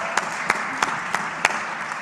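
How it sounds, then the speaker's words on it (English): Steady applause from a crowd, a wash of clapping with a few sharper claps standing out, continuing throughout. "Give her a hand, big round of applause."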